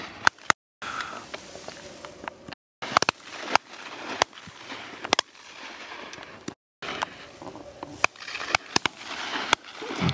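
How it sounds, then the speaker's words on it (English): Gunshots ring out across a game shooting day, a string of sharp, loud reports scattered over about ten seconds, some close and some farther off, with faint rustling and movement between them and no talking. "One shot, that was."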